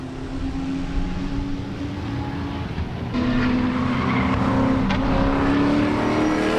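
A race car engine roars steadily and close by on the Sebring track, its pitch jumping up partway through as the car accelerates over curbs, with some tire noise underneath.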